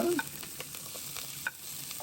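Onions frying in a pan for chicken curry, a steady soft sizzle with a few brief stirring clinks and scrapes, moderately close and alone without talk.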